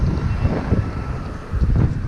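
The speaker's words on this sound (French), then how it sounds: "il y a pas mal de vent." Strong wind buffets the microphone during a gravel bike ride, a low rumbling gusty roar that swells and dips continuously, loud and close, with no speech.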